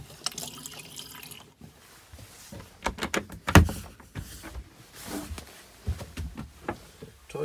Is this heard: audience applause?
no